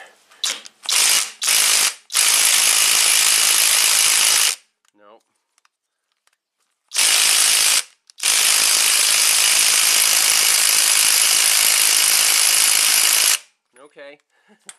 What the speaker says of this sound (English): I want to see if little RevStark has any chance of removing this big bolt.